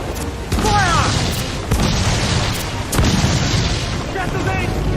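Ship cannons fire during a naval battle in the video game Assassin's Creed Black Flag, heavy booms landing about every second against rumbling background noise.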